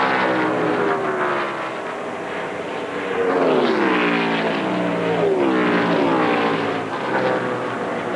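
NASCAR Winston Cup race cars at Chicagoland Speedway during the 2001 Tropicana 400 roar past in a loud, sustained engine drone, rising and falling in pitch as the pack passes close by.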